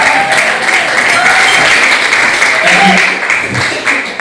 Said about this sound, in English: let's hear the audience give Tim and Bruce a big round of applause